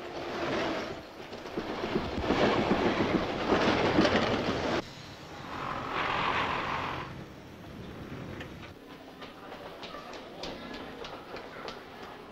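A London Underground tube train rattles and roars along the track, loud at first, then easing to lighter clicks and squeals as it slows.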